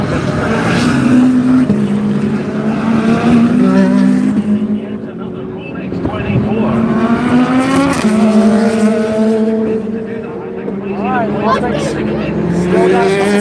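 GT3 race cars, a Corvette and a Mustang, roar around Daytona in a continuous loud engine drone with rising and falling pitch as they pass, over steady commentary.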